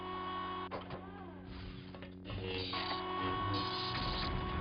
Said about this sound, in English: Oh, elevator.